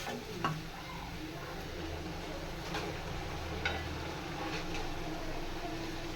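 Nippattu rice crackers fry steadily in hot oil at home, giving a continuous, close bubbling sizzle with a few faint ticks and clinks over a low background hum.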